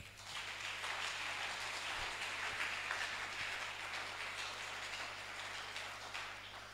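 A church congregation applauds together during a sermon on the alliance of expansion, sustained broadband clapping that holds steady and fairly distant for the whole stretch, slowly easing off toward the end with no voices over it.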